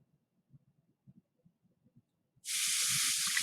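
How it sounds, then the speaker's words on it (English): Hydrochloric acid poured onto sodium bicarbonate sets off a sudden, steady loud fizzing hiss after a few soft knocks, continuing to the end. "Whoa, wow, look at that fizzing."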